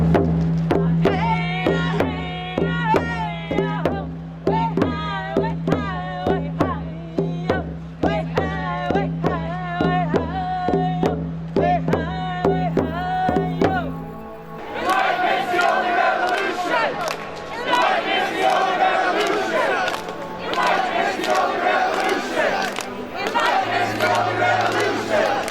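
Protest crowd at Occupy Calgary chanting a rhythmic call in unison, loud and close, then breaking into dense mixed shouting, cheering and voices.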